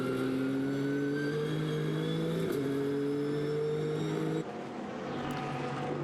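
GT race cars at Monza, a Nissan and a Bentley, pass with sustained droning engine tones that shift pitch as they go by, steady and moderately distant, with no voices.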